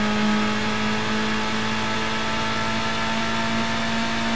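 Engine of a race car in the Gran Turismo video game revving high and holding at around 7,500 RPM, a steady, loud, buzzing drone with constant pitch and no voices.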